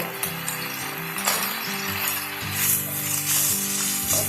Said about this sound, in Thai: ผัดให้ข้าวกับหมูเข้ากันเลยนะคะ